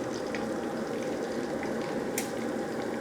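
Battered squid deep-frying in hot oil, a steady dense bubbling sizzle throughout with occasional small pops and crackles, close and even, with no talking.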